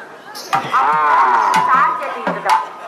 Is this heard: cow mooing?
yes